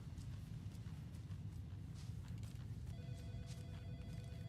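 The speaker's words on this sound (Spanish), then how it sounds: "¿Dónde está ese teléfono? Tal vez yo lo pueda contestar." A telephone rings faintly in the video game Alan Wake 2, its electronic trill starting partway through over a steady rumbling background with clip-clop-like hoof sounds.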